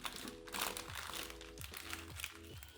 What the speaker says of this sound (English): throw a Ziploc bag over it